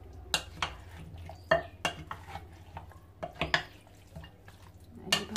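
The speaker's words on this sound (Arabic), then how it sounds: "هقلب بقى معاكم التتبيله دي كلها كده." Chicken wings being stirred through a spiced marinade in a bowl, giving repeated wet squelches and scattered clinks of a spoon, close and fairly quiet, with no talking.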